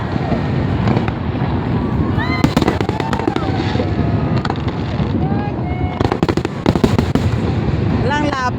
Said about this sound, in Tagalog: ang pinaka-aantay namin na firework display sa wakas